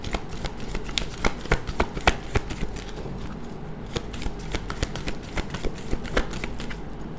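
Tarot cards shuffled by hand, a steady run of crisp riffling flicks and snaps, close and clear, continuing throughout with no voice over them.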